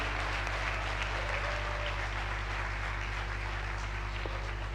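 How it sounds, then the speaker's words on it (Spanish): Steady applause from a crowd rises over a constant low electrical hum, continuous and fairly even. "Vamos a darle un fuerte aplauso a Mich para que también Está se relaje"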